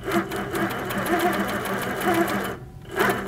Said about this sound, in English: Once I move my controller, that's when the needle is going to start quilting.